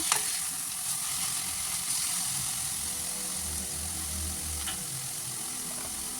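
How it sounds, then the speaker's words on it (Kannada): Coriander leaves sizzle and crackle in a hot pan while being stirred for pulao, producing a steady, close frying hiss with soft scraping from the stirring. No speech is heard. "ಕೊತ್ತಂಬರಿ ಸೊಪ್ಪು ಹಾಕಿದ್ಮೇಲೆ ಒಂದು ಸರಿ ಹುರ್ಕೊಬೇಕು."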